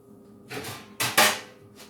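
A pan taken out in a home kitchen while baking fruit desserts: a soft scrape followed by two sharp metallic clatters close by, with no talking.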